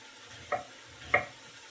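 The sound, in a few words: mushrooms and onions softening in a pan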